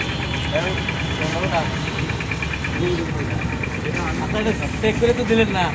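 A rebuilt Tata pickup truck engine idles steadily nearby with a constant mechanical rumble and some knocking vibration, while people talk over it.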